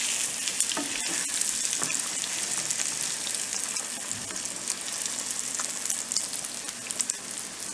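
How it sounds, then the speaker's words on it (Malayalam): Chicken rolls deep frying in hot oil as they are turned, a loud continuous sizzle and crackle close by with a few clinks and shifts, and no talking. "ഇതുപോലെ ഗോൾഡൻ ബ്രൗൺ ആവുന്നത് വരെ ഫ്രൈ ചെയ്തെടുക്കണം"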